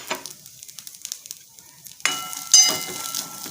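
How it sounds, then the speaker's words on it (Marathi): Fresh green chickpeas dry-roast in a kadai, at first a faint crackle, then loud close sizzling and scraping as they are stirred around the hot pan. "डाग पडेपर्यंत भाजायचे."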